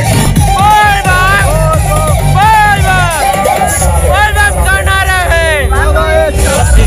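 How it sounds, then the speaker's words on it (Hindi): A large crowd of kanwar pilgrims gathered in Jaitpur makes a loud, constant hubbub of many voices, with passing vehicle noise, and someone talks close by throughout. "जैतपुर के भीड़ कुछ इस प्रकार है देख सका था।"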